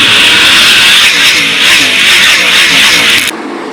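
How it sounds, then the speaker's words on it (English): 410 sprint cars at Attica Raceway Park roar loudly together as they accelerate on a race restart, with a dense, sustained engine howl that cuts off abruptly near the end. "Brian Lay on the loud pedal, green back out."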